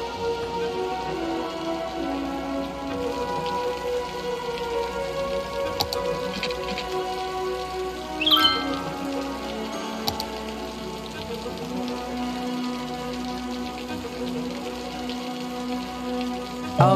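Steady rain weather in the Cities Skylines city-building game, a continuous soft patter with occasional faint ticks and drips running throughout, no voices.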